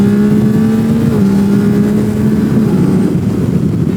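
A Yamaha Tracer 9 GT sport touring motorcycle engine drones loudly and steadily, its pitch holding then easing slightly as the rider pulls away, with wind rush underneath.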